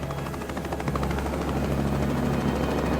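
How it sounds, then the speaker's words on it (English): A steady rescue helicopter drone with rhythmic rotor thumping, loud and close, over an airliner crash site in the Pacific Ocean, with no voices. "Rescue helicopters were soon at the crash site"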